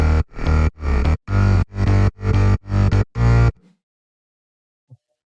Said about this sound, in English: And all the basses together sound like this.